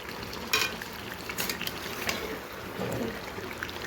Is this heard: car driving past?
no